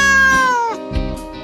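A cat meows in the Romance Club video game, one loud, close, drawn-out meow followed by a shorter second one, clear and alone without talk.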